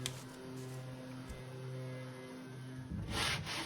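Hand sanding across a roughly textured painted surface mixed with wood particles, a faint, continuous rubbing scratch with a brief louder scrape near the end.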